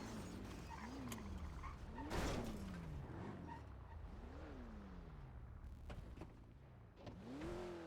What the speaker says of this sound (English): Let me just move my car a little bit.